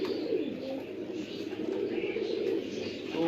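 A pigeon on a rooftop coos close by in soft, repeated rolling calls that stay steady throughout.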